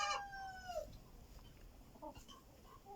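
A hen gives a drawn-out squawk, then a few soft, scattered clucks nearby against a quiet background.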